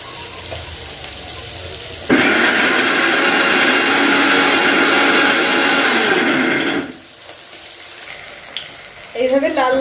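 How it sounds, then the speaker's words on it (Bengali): A mixer grinder whirs loudly for about five seconds as it blends coriander leaves and stems, starting abruptly and cutting off, with quieter kitchen noise before and after. "মিক্সি করে নেব।"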